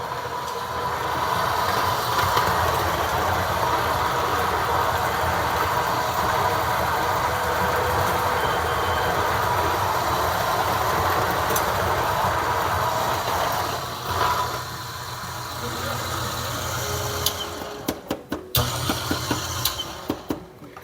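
A coffee grinder grinding oily dark roast beans for a Lelit Bianca V3 espresso machine, a loud steady whir that fades out near the end, followed by brief tapping and knocking.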